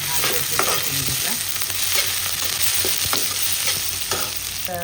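Chopped onion fries in hot oil with cumin and crushed garlic in a pan, a loud steady sizzle with occasional stirring scrapes, no voices.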